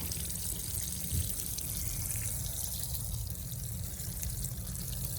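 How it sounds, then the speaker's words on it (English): Roughly a gallon of water is poured onto the base of a berry plant, a soft continuous splash and trickle heard faintly and steadily throughout, with no voices. "Feeding it roughly a gallon of water."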